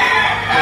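Chickens at a poultry market in Lipa, Batangas, with a loud, close, sustained crowing or squawking call filling the brief moment.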